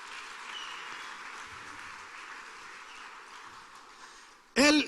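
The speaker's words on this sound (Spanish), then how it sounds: "¿Cuántos dan un aplauso por Albert Einstein?" A church congregation applauds during a Spanish-language sermon, a steady wash of clapping that runs for several seconds before a loud voice cuts in abruptly at the end.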